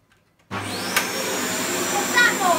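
Dyson CY22 Cinetic Big Ball Animal cylinder vacuum switching on after a moment of quiet, then running with a loud steady whine and a high tone, close by, with a brief voice in the background.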